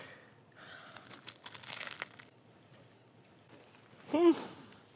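Wax or butcher paper crinkles in short, close rustling bursts through the middle of the clip, followed by a brief louder crackle near the end, with faint voices in the background of a grilling kitchen.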